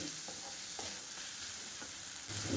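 Masala fries in a pan for tomato rice, a faint continuous sizzle with a few soft stirring scrapes, heard close up with no voices.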